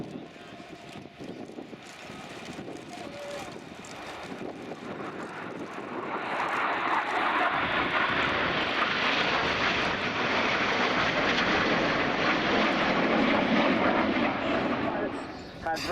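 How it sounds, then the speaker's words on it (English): Tornado bomber jets at an air show flypast, a loud broadband jet roar building from a distant rumble into a sustained close pass, with announcer speech over the public address underneath. "So now in from the right, celebrating the Tornado Bomber Force"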